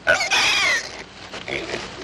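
A spooked pig squeals and grunts close by, a sharp high cry followed by a run of lower nervous grunts and snorts.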